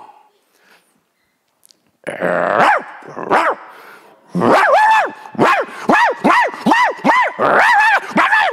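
A preacher imitates a dog with his voice during a sermon, growling first and then letting out a rapid series of loud, rhythmic barks, close to the microphone after a quiet pause.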